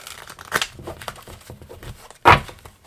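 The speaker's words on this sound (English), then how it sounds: "What tarot channel has the worst shuffling?" Soft papery riffling and crinkling of tarot cards being shuffled comes in short bursts, ending with one sharper, louder flurry near the end.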